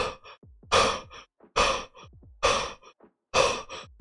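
A human voice imitates a big dog panting, slow heavy breaths with a long airy exhale roughly every second, four strong pulses with quieter inhales between them, close and alone with no other sound.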